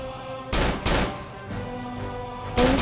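Gunshots fire in the Roblox game Bloxburg, a handful of loud, separate blasts spaced apart over a steady game backdrop, with no talking.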